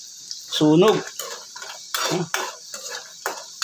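Metal utensils clatter and scrape against a pan while food sizzles in the background, with a voice speaking over the kitchen noise.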